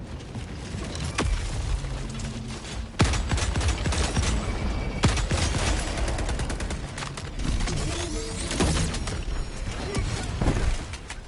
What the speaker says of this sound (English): So satisfying taking out these guys with the AMR.